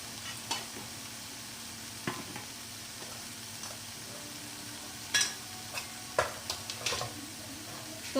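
Carom seeds sizzling in hot oil in a pan for an okra fry, a constant light crackle punctuated by scattered pops and a few clinks of a spoon, no voices.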